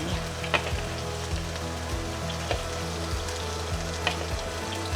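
Onion sizzles and crackles steadily in a hot pan for chicken adobo, a close, continuous frying hiss broken by a few sharper pops and stirring knocks, with no talking.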